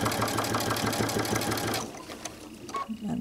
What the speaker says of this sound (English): So I'm going to sew right along there.